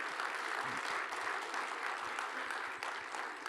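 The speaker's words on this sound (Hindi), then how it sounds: "उसी रिदम में तालियों की गड़गड़ाहट होनी चाहिए।" A conference audience at the Rashtra Sarvopari Sammelan applauds a guest with dense, continuous clapping, loud and unbroken from start to finish.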